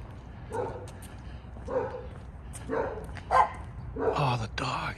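Several dogs bark in short bursts spread out over a few seconds, moderately close, with a higher yip near the end.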